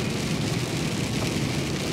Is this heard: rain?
yes